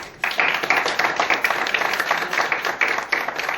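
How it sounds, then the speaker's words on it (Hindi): An audience at a Hindi motivational seminar on millionaire goal mindset bursts into steady, dense clapping that starts abruptly and continues loudly for a few seconds with no talk over it. "बजाओ ताली"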